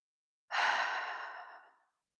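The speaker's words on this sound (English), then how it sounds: "let's just take a deep breath in" A single deep breath, drawn in and then released as a long audible sigh during a calm guided relaxation, close and soft, fading out after about a second and a half.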